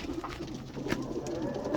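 A pigeon in a breeding loft coos in low, steady murmurs that continue close by for the whole short stretch.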